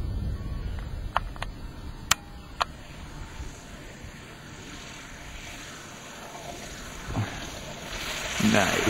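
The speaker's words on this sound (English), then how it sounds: "here comes Dave in for another landing" Kitfox light aircraft on skis approaching to land in roughly a 20 knot wind, its engine a steady distant drone under wind noise, with a few sharp clicks early on and a slight swell near the end.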